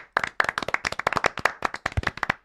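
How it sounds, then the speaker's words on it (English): A small group claps for Cecil on a football talk show, with rapid, uneven individual hand claps that sound close and distinct, lasting a couple of seconds after a brief pause. "round of applause for Cecil"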